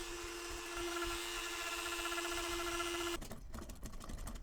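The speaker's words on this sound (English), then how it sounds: "for the time being, this Dremel did a really good job" A Dremel rotary tool carves the transitions of a wooden chair: a steady, faint high-pitched whir for about three seconds that then stops, leaving quiet rustling, with no talking.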